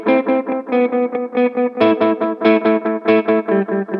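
Electric guitar played through a TC Electronic Echobrain analog delay pedal, a steady run of picked notes with each one trailing repeating echoes, loud and close with no talking.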